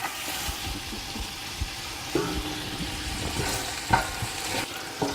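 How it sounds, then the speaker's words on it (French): A second batch of meat pieces browns in a pot for couscous, a steady close sizzle with intermittent scraping stirs and clinks. "Deuxième série de morceaux de viande. Et je vais les faire revenir à leur tour."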